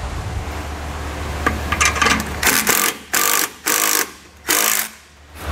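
A power tool tightening bolts on air helper spring brackets while installing Firestone Ride-Rite Red Label Extreme Duty springs, heard as a steady whir followed by several loud separate bursts with pauses between them.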